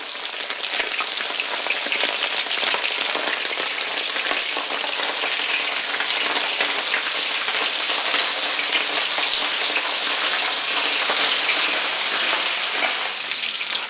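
Loud, steady sizzling of lamb ribs frying in hot oil in a kazan, a dense crackling hiss with no pauses, close up.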